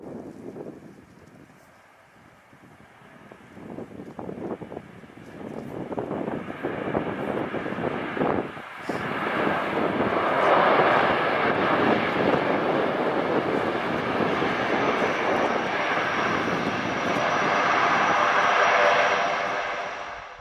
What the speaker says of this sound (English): This Norwegian C-130 made a landing on a public road in Sweden.